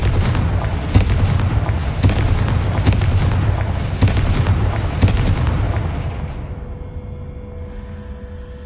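Booming, crackling blasts from a magic explosion spell in a Harry Potter video game fill the clip, loud and dense with repeated thumps, then fade into a quiet tail.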